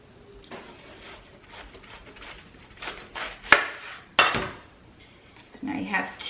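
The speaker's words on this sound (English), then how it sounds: "what I like to do is cut it in half" A large kitchen knife cutting a watermelon in half, heard as scattered cutting, scraping and knocking sounds against a board, with a few sharper cracks, loud and close, with no one speaking.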